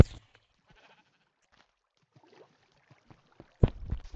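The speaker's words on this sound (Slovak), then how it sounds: "Ovca." Sheep bleating in the Minecraft video game, a short burst near the end that follows a mostly quiet stretch with faint scattered game sounds.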